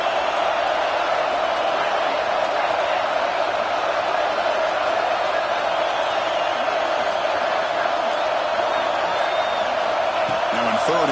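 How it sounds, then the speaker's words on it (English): A roaring college football stadium crowd in a Georgia vs BYU game fills the air with a dense, unbroken wall of noise, while a commentator talks over it. "listen to this crowd noise. This stadium is vibrating."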